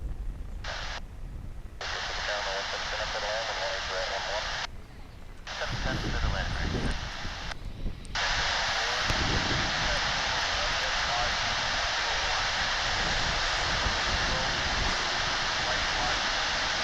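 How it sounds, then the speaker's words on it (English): An American Airlines Airbus A319 at DFW International Airport, its engines giving a steady, loud broadband roar with hissing wash, broken by a few brief cuts early on and then running continuously. "From San Luis Potosí in Mexico comes this Airbus A319, American Airlines."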